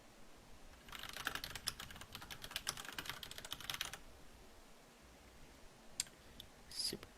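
Quick bursts of clicking keystrokes on a computer keyboard as a note is typed, a few seconds of fast typing followed by a pause and a couple of isolated clicks, faint and close.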